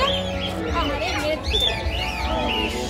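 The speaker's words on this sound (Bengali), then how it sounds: "এখন এই পাখিটাকে হচ্ছে বড় পাখিটা মারার চেষ্টা করছে" Birds squabbling at Alipore Zoo in Kolkata, a large bird attacking a smaller one, with sharp chirps and squawks over crowd babble and nearby talk.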